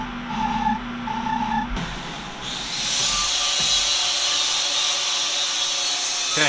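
A metal lathe runs with a hum, then a square cutting insert bites in, chamfering a steel pin with a steady bright hiss of material being shaved away.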